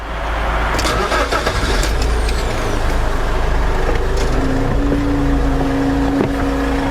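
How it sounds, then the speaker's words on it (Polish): The hydraulic pump on an aerial work platform runs with a steady mechanical rumble and engine-like drone, joined by clicks and a rising tonal whine midway, loud and close. "Demonstrując to oczywiście musimy załączyć urządzenie i pompę hydrauliczną"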